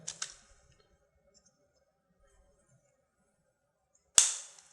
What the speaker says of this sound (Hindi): ये जो क्लिक साउंड आता है इट्स मीन कि इट्स लॉक नाउ